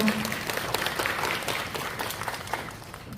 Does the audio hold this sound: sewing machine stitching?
no